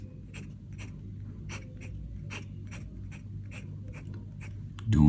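Diplomat Elox fountain pen nib scratching shapes onto paper, a series of short, close, dry strokes in an even rhythm, with no voices.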